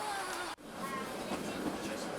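A mountain railway train in the Bernese Alps of Switzerland rolls steadily along the rails beside a glacial valley, a continuous rumbling hum and faint rhythmic clatter, heard from inside a carriage.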